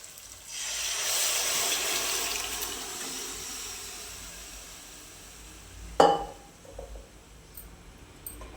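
Cooked kidney beans (rajma) tip into a pan of oil-fried masala with a broad, steady sizzle that swells early and slowly fades, followed by a sharp clatter of a utensil and a few faint taps.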